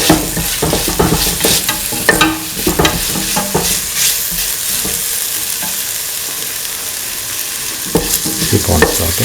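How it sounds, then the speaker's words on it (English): Tomato pieces and salt sauté in a hot pan for chili duck, giving a loud, steady sizzle broken by busy spatula scrapes and knocks, most frequent at the start, close and with no speech. "keep on sauteing."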